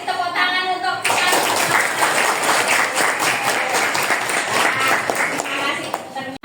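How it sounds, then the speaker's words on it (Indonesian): A classroom group breaks into loud, dense applause that follows a brief spoken line and then holds steady for several seconds before tapering off. "tepuk tangan untuk kita"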